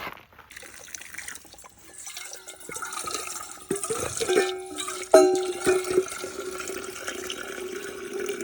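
Spring water trickles and splashes steadily into a container, with a brief louder gush midway, close by and without voices.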